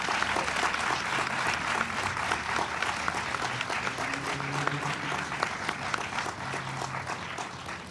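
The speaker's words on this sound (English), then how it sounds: "Can we give one last final round of applause to everybody who shared?" At a gun violence awareness vigil, a crowd applauds, steady clapping with scattered sharper claps spreading through an outdoor gathering, some faint voices mixed underneath.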